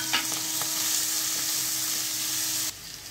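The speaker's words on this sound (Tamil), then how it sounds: "கேரட் போட்டு நல்லா வதக்கி விடுங்க." Onion and carrot sizzle steadily as they sauté in a pan for upma made with samba rava, with a spatula stirring through them; the frying hiss is close and continuous, then drops off sharply near the end.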